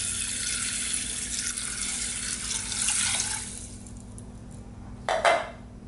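Water pours steadily into a cooking pot for lentils, a continuous splashing rush that fades after about three seconds, followed by a short clinking of metal near the end.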